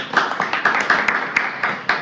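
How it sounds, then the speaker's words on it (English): A small group claps briefly after a spoken IELTS mock test, a short run of distinct, fairly close hand claps with uneven spacing that thin out toward the end. "You deserve a clap for this particular mock."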